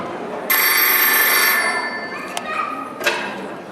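During a stage play, a telephone rings on stage with a bright electronic trill lasting about a second, followed by two short sharp knocks or clicks, heard over a quiet hall.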